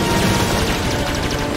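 Loud, dense bursts of rapid gunfire crackle continuously in the video game Star Wars Jedi: Fallen Order, like automatic weapons firing in quick succession with no pauses.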